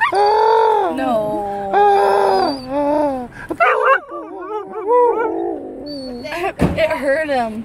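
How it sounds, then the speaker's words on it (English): A young husky puppy lets out long, drawn-out whimpers and howls, then a run of shorter yips and whines. The sounds are close and clear, with no talking over them. "Because there's a little husky. There's a puppy up there."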